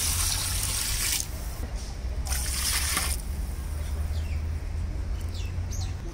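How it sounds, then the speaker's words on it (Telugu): Water pours into a cooking pot of fish being prepared outdoors in a village, a steady hissing rush in two short bursts over a constant low hum and ambient noise. "ఇప్పుడు వాటర్ వేసుకుంటే బాగుంటుంది."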